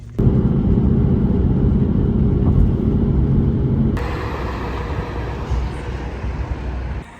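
Car driving on a road trip toward Italy through Slovenia, heard from inside the cabin as a steady, loud low rumble of engine and road noise. Partway through, the tone shifts brighter with added hiss, and no one talks.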